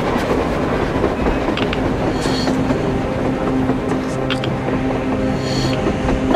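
A train rolls past on the surface in the game Metro Exodus, a loud, continuous rumble with rhythmic clickety-clack from the wheels and occasional metallic squeals.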